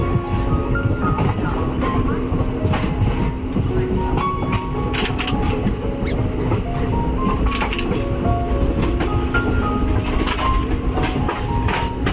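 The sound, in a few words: Tutari train running on the rails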